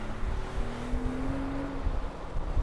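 Mercedes SL65 AMG accelerating hard, heard from inside the car: a steady, loud engine drone with a rising tone sweeping up over constant wind and road rumble, with no talking.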